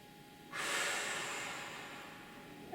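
A single deep, breathy exhalation is heard during a runner's calf stretch. It starts abruptly, holds as a long hiss of air close to the mic and slowly fades, quiet and alone.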